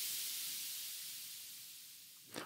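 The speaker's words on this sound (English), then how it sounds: "We have a crash cymbal right here." A noisy crash cymbal sample in FL Studio gives one long, bright hissing wash that slowly fades over a couple of seconds before a small soft accent at the end.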